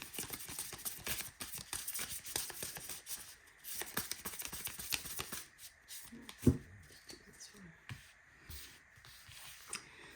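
Tarot cards are shuffled close by in quick, soft riffling bursts, pausing midway before quieter handling and a single sharp tap.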